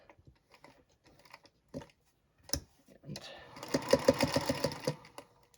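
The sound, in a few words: sewing machine stitching a fabric book cover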